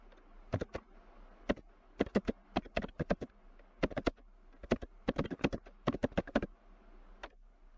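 Keys clacking on a computer keyboard while text is entered into a text box, in bursts of sharp, close clicks with short pauses between runs.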